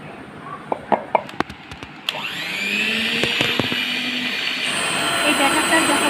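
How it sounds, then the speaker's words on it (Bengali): An electric mixer whirs steadily while beating cake batter made with boiled, cooled milk and flour, starting after a few sharp clatters and running loud and continuous with a rising pitch. "এই ব্যাটারটা যত ভালো করে ফেটানো হবে তত কেকটা সুন্দর হবে এবং সফট হবে"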